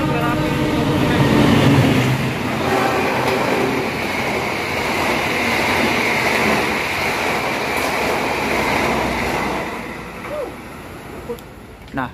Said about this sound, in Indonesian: Kereta api Argo Wilis. Persiapan melintas langsung kecepatan tinggi.